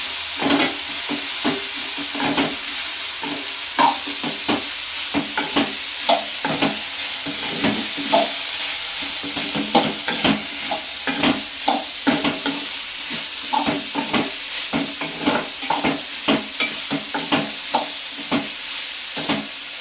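Onions and coriander leaves sautéing in a pan for Tamil-style onion chutney, a steady close sizzle broken by frequent rhythmic scrapes and clacks of a spatula stirring throughout, with no voices.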